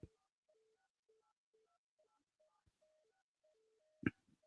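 Faint telephone keypad dial tones in the background of a call-in broadcast, a series of short evenly spaced beeps ending in a sharp click, with no talking.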